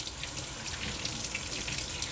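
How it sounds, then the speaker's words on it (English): Hands are washed with soap under a warm running sink tap: a steady, close splashing stream of water that goes on evenly without pause. "to wash our hands with soap before we eat. Is the water warm enough?"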